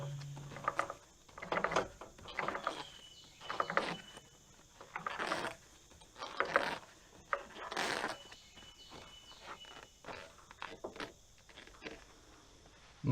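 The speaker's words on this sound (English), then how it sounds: "And then you can tighten down the T-handle and you'll have a tight blade ready to function." Tightening the T-handle that tensions the band blade on an EZ Boardwalk sawmill, with a series of close, soft metallic ratcheting turns and scrapes in irregular bursts.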